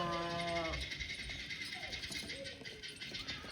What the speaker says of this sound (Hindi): इधर से भेड़ें आ गई हैं सारी खुलकर